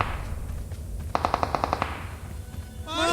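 Automatic gunfire in the PUBG Mobile game rings out as a rapid burst of about ten evenly spaced shots, fairly close and loud over a low background rumble.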